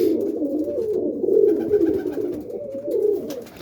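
Roller pigeons cooing softly in a loft, a few birds making repeated low, throaty coos close by, with no other sounds.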